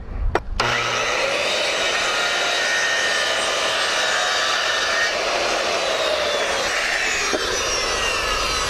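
A miter saw cuts a wooden fascia board in one long, loud, steady whine that runs for several seconds after a brief start, close by with no talk over it.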